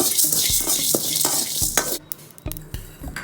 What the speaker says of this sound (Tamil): எடுத்து வச்ச பட்டை, வெந்தயம், சீரகம் வாசம் வர மாதிரி வறுத்து எடுத்துக்கோங்க